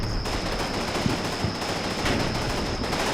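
Distant machine gun fire rattles through a Combat Mission Normandy battle, a steady dense crackle of gunfire with scattered sharper reports over a constant background hiss.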